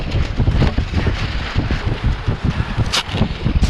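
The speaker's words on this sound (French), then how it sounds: "Pierre, pour vous donner une indication du vent, Pierre arrive en 5 mètres. Donc ça souffle quand même un peu." Strong wind at a wing surf session, with gusts strong enough for a 5 m wing, buffeting the microphone in steady loud rumbling bursts with rustling noise throughout and no voices.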